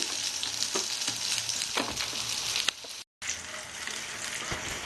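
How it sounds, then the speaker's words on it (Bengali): Beans pakoras deep-frying in oil for a second time make a loud, dense, continuous crackling sizzle, with a brief drop-out near the end. "আবার আমি কিছুটা বিনস এর মধ্যে দিয়ে রাখবো ভাজার জন্য দ্বিতীয়বার ভাজার জন্য"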